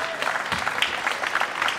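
Audience at a 2006 World Pool Championship last-64 match between Wu Chia Ching and Corey Deuel claps in a steady, fairly dense patter throughout a short burst, heard at moderate distance.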